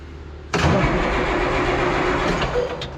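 A CASE Magnum tractor engine cranks and catches at about half a second, then runs with a steady, loud rumble close by.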